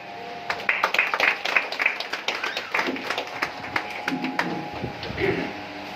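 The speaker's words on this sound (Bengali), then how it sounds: "জোরে হাততালি" Scattered hand clapping from a small crowd, uneven and moderately close, with some voices murmuring underneath.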